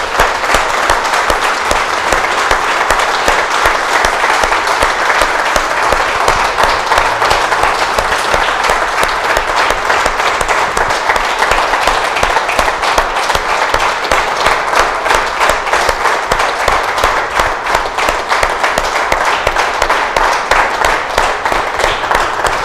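A church congregation at a Sunday service applauds in praise, a loud, sustained, dense roar of clapping hands with a fast rhythmic patter running unbroken from start to finish.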